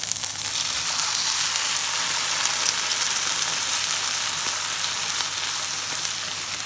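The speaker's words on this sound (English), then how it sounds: "And just give that a good stir about." Onions and canned soup sizzle steadily in a pan, a continuous close frying hiss with faint stirring, no talk, for chicken pasta bake.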